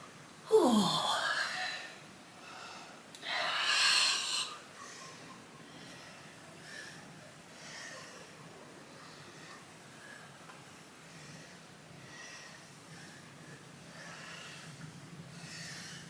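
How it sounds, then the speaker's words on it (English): Heavy breathing in a seated kundalini yoga class, two strong forceful breaths early on, then faint, steady breathing continuing quietly in the background without speech. "Again, heavy breathing."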